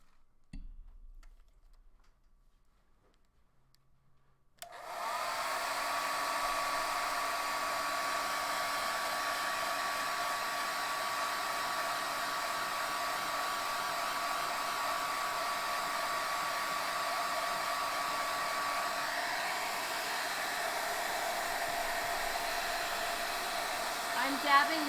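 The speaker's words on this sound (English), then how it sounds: "Okay, quick blow dry." Quiet handling noises give way to a hair dryer that switches on and blows a steady, loud, even hum for about twenty seconds while paint is dried on a doll's face during interior work.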